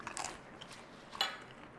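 Crunchy chips being bitten and chewed, two crisp crunches close to the mic, one near the start and a sharper one past the midpoint, quiet otherwise with no talk.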